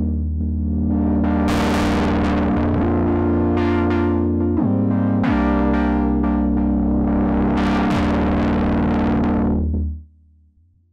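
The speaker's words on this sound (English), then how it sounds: "MiniFreak's distortion can provide anything from subtle warmth to complete destruction." An Arturia MiniFreak synthesizer plays a sustained, gliding patch through heavy distortion, loud and gritty with buzzing harmonics that swell and shift across held and sliding notes, then cut off near the end.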